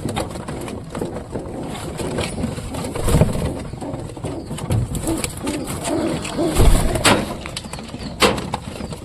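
A pair of pigeons in a coop coo softly, low throaty murmurs rising now and then against a busy background of rustling and knocks, with no one talking.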